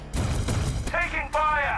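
Gunfire in the Warhammer 40,000: Battlesector Chaos Daemons campaign: dense, loud bursts of shots and impacts over rumbling battle noise, with shouted voices breaking in over the firefight.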